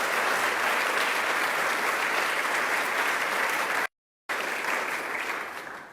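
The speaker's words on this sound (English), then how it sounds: "let's give them a round of applause" A crowd applauds New York State Parks staff at a Long Island coastline funding event, a loud dense wash of clapping that runs on steadily, broken once by a short gap before resuming and tapering slightly.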